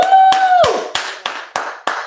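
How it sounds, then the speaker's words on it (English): One person claps six sharp, loud claps in a steady rhythm, close up, while a sustained whistle-like tone fades out at the start. "We just going to clap it up for them."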